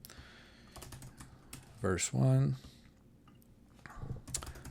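Quick bursts of typing on a computer keyboard while arranging song sections in TouchOSC, a short run of clicks standing out between stretches of quiet talk.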